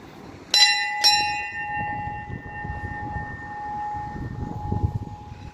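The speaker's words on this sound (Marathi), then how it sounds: "इकडं घंटी" A temple bell at a village goddess shrine is struck twice in quick succession, loud and close, its bright metallic ring lingering and slowly fading over soft room noise.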